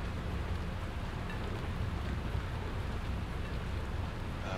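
Rain in the video game Satisfactory falls as a steady, dense hiss with a low rumble underneath, continuous and even throughout.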